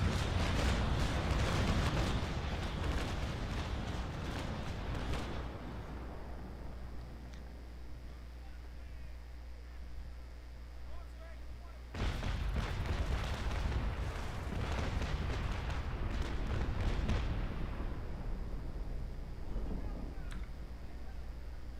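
Naval cannon broadside fire in the video game Naval Action, heavy rumbling barrages rolling in two long bursts with a quieter ship ambience between them, loud and close.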